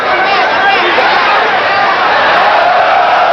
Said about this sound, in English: Crowd yells, they think Valdez was hitting low.